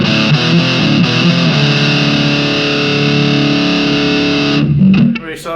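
An Audiostorm Grand Classic distortion pedal drives a dense, sustained distorted guitar tone that rings steadily and loud before cutting off near the end.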